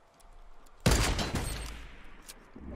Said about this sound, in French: Il y a un gars derrière moi qui tire au snipe